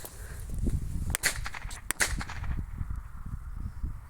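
Two sharp cracking bangs from a small firecracker, heard outdoors over rustling background noise, the second crack shortly after the first.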